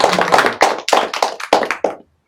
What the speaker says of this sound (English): the last thing is to give round of applause